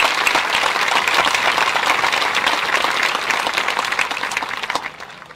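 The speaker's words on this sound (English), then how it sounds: "Big round of applause for our staff." Loud, steady applause from a graduation audience honoring school staff, dense clapping sustained throughout before tapering off near the end.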